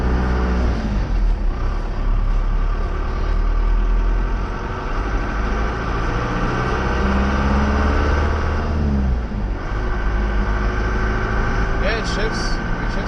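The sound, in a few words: truck driving and shifting gears, M5OD-R2 transmission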